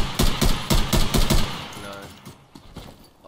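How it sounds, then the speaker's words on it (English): Rapid bursts of gunfire from the video game Escape from Tarkov, a run of loud, evenly spaced shots in the first half that then stop, leaving quieter background noise. "I was just kind of like littering the whole place with bullets hoping to kill someone"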